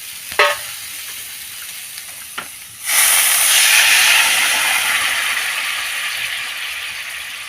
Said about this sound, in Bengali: চলো এবার আমি ওর মধ্যে জল দিয়ে দেবো।